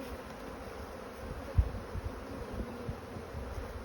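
Honeybees in a hive crowded with swarm cells hum in a steady, moderate drone close by, with a single soft knock partway through and no voices.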